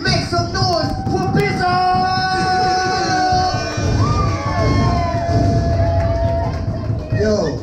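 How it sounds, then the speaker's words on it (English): Loud live-show crowd at a hip-hop event cheering, whooping and shouting continuously, with dense babble and scattered claps filling the space from start to finish. "I need you to stomp your motherfucking feet, clap your motherfucking hands, make some noise for"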